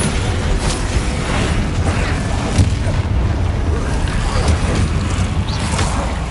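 Spell impacts from Descendo and other combat magic in Hogwarts Legacy, a dense run of booming, crackling bursts and mechanical clatter layered over constant game noise, with no clear gaps between hits.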